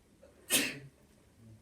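A single sharp sneeze bursts out close by in a quiet classroom during an algebra lesson, a brief broadband blast over faint room hum.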